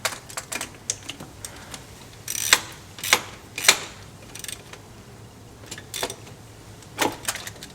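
Bolts snugged down on the speed sensor of a 1993 Honda Civic: a sequence of close, crisp ratcheting clicks and small metallic taps, irregular and fairly quiet, with no talk.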